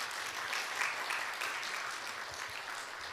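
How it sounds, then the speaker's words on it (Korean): A church congregation claps to welcome a visiting missionary elder and his wife, a soft, distant, steady round of many hands applauding that carries evenly through the short stretch, no voices on top. "큰 박수로 환영하시겠습니다."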